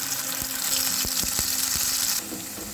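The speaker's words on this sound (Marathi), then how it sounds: "आता आपल्याला मसाला जो आहे हा तेलात टाकायचा आहे." Green masala hits hot oil for a drumstick curry, producing a steady, bright sizzle that drops in intensity near the end.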